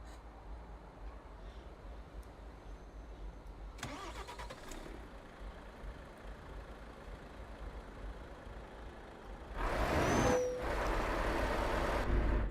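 A 500-plus-horsepower truck in Euro Truck Simulator 2 (ETS2 1.46) rumbles steadily at low pitch, with a brief burst near four seconds and a louder surge toward the end, as if the engine is starting or revving.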